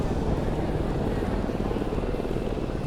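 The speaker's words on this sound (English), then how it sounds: "Now the aircraft is accelerating to maximum speed to initiate the maneuver and the hammerhead turn." An aerobatic airplane accelerating to maximum speed during an air show routine, a loud, steady, rumbling engine roar that fills the whole moment.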